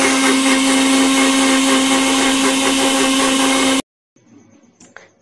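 A mixer grinder blending aloe vera with lemon and black salt gives a loud, steady whirring drone for nearly four seconds, then cuts off abruptly, followed by faint clatters and a small knock.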